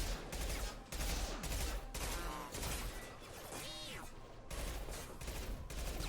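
Rapid gunfire from a Mass Effect 2 firefight on Insanity difficulty, loud bursts of shots packed together and running almost continuously, with brief pauses between volleys and crashing impacts mixed in.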